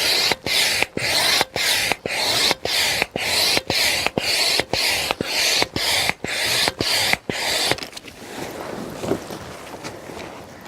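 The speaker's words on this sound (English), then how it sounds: "you attach the pump here in the middle to this one point, and then you just start pumping" Manual pump inflating a Kampa Ace AIR 400 inflatable caravan awning, a loud, close, rhythmic whooshing of about fourteen even strokes, followed by a quieter rustling hiss.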